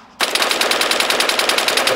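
A CZ805 rifle in Arma 3 fires a long rapid automatic burst, loud and close, with evenly spaced sharp shots after a brief quiet start.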